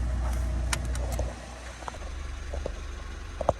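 A car drives along on the way to get dinner, with a steady low road rumble that softens partway through, broken by a few faint clicks and knocks inside the cabin.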